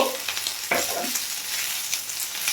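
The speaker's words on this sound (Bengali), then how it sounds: "ক্যাপসিকাম আর টমেটোটাও আমি এর মধ্যে দিয়ে দিচ্ছি, দিয়ে জাস্ট একটু নাড়াচাড়া করে নেব।" Capsicum and tomato tossed and stirred in a hot frying pan, giving a steady close sizzle with a few scraping spatula strokes.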